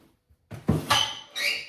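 An overfull drawer is pulled open or pushed shut, giving a short scraping squeak followed by two brief rubbing slides, fairly close and quiet.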